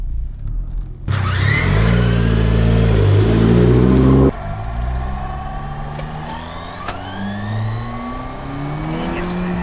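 A Traxxas RC car races at full speed along a highway, a loud, close, high-pitched motor whine that climbs, cuts off abruptly, then carries on as a lower, rising drone under wind and traffic noise.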